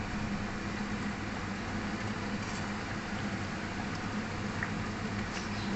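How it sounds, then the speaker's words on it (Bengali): Pomfret fish curry gravy boiling in a pan on a gas stove, a steady faint bubbling hiss with soft pops running continuously, with no voices. "যেহেতু আমার ঝোল টকটক করে ফুটে গেছে আমি মাছটা অ্যাড করে দিয়েছি"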